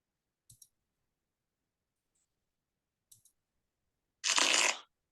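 A short digital card-shuffle effect from an online bridge game plays once near the end, a brief papery burst preceded by a few faint, sparse clicks in otherwise near silence.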